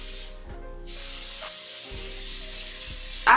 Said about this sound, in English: Now I'm gonna go in with some sheen spray because I want the hair to be like really shiny.